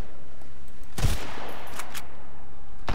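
Gunfire in the survival game Sunkenland, a loud heavy shot burst standing out over a busy background, followed by several lighter sharp cracks.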